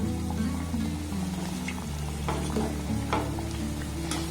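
Flour and sugar sweets deep-frying in hot oil, a steady, dense sizzle close by, punctuated by a few brief stirring scrapes and bubbling pops.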